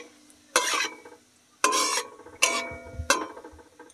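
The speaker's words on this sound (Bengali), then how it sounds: "এবার দারচিনি, গোটা জিরে, একটা শুকনো লঙ্কা আমি ভালোভাবে ভেজে নেব।" Cinnamon, whole cumin and a dried chilli fry in oil in a village kitchen pan, heard as four short bursts of scraping and stirring, with faint sizzling between them.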